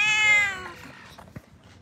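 Several cats meow at an animal shelter, a loud harmonic wail in the first half fading into softer scattered mews and a brief thump, with no talking.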